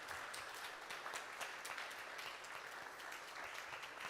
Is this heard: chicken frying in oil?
no